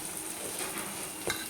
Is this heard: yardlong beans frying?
yes